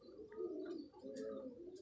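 A female Rampuri pigeon, a large-headed spotted original breed, coos in low repeated rolling calls, close and steady, with a few faint chirps and no talk over it.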